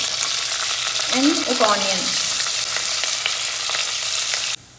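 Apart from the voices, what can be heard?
onions frying with mustard seeds, cumin, curry leaves, chillies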